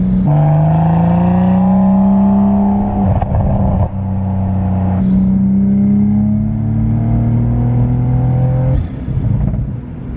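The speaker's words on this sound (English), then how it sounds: "So you hear the pops. They're still loud." A Toyota Supra with a dual cat-back exhaust revs loudly and steadily up and down, with a few sharp pops and crackles from the exhaust between revs.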